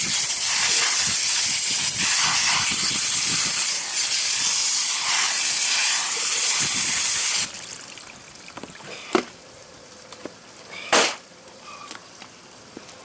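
A garden hose sprays water hard onto a TetraPond 26596 waterfall filter during cleaning, a loud steady hiss for several seconds, then it cuts off to quieter trickling and a few splashes and knocks.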